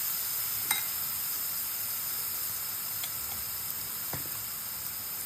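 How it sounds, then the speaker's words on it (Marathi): Ground coriander, red chili powder and turmeric sauté in hot oil with a steady, even sizzle and hiss, broken by a few faint ticks of a utensil, close and with no voices. "धण्याची पावडर लाल मिरची पावडर हळद टाकणार आणि ते तेलात परतून घेऊ"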